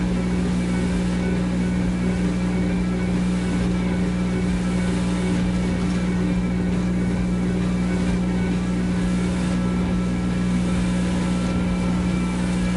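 A speedboat in GTA runs at speed with a steady, loud droning engine hum and rushing water, continuous and close throughout, with no talk.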